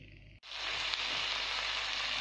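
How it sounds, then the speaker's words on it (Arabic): Onions frying in a pot over low heat while making Algerian red bean stew: after a brief quiet moment, a steady, fairly loud broadband sizzle starts and holds without talk. "ونخلوها على نار مهيله حتى يذوب شويه البصل"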